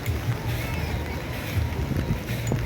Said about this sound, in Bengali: এই যে ট্রলার আরেকটা ট্রলার